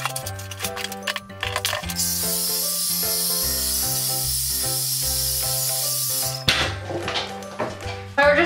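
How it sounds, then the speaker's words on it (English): A heat protectant hair spray and hair dryer on short hair make a loud, sustained airy hiss lasting about four seconds. Background music with steady tones plays throughout, before and after the hiss. "I'm gonna spray that in my hair lightly and then just blow dry my hair real quick."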